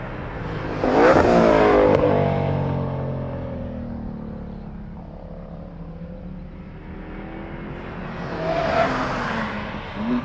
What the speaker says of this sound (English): Looks like we got the Parts Farm GT500 heading down the main straight